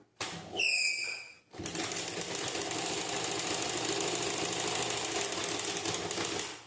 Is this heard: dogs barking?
no